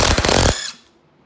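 A DEWALT 20V brushless impact driver hammers a screw in with a loud, dense burst of rapid impacts lasting about half a second, then cuts off abruptly, leaving a brief fading ring and near silence.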